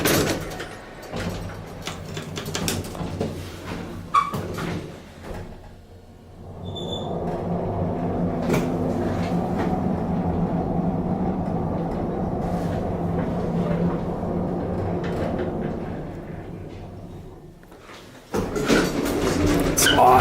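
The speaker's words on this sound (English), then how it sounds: "The doors just shut fast." Doors of a vintage Otis black-button traction elevator in an office building slide shut fast with a few sharp knocks. A steady mechanical hum runs for several seconds afterward, and people talk around it.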